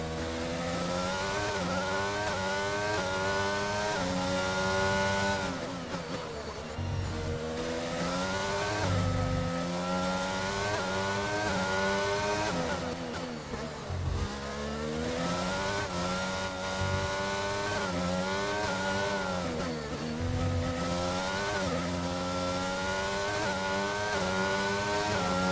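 Aston Martin race car engine in a racing video game at the Singapore circuit, a loud continuous high-revving whine that rises and falls through gear changes across the clip with no talk.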